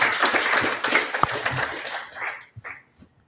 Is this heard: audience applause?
yes